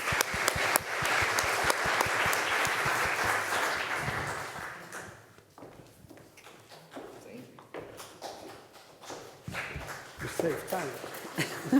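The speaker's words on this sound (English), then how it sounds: "let's have a great round of applause for the 2 newest DPJ members." Clapping from an audience at a cooperative's milestone celebration, loud and dense for about four seconds, then thinning into scattered claps and room noise with some speech.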